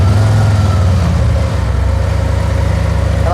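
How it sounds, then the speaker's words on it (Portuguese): A 2024 Harley-Davidson Street Glide motorcycle idling close by, its engine giving a loud, steady, lumpy low throb with an even pulsing rhythm throughout, no talking. "Quando a gente liga aqui a moto"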